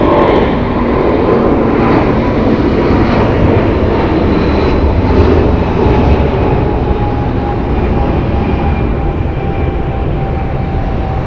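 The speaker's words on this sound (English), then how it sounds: "Departing here is United Airlines flight 1637 going to EWR" United Airlines Boeing 777-200, 26 years old, departing LAX, a loud continuous jet engine roar holding steady throughout with a faint rising whine, no voices.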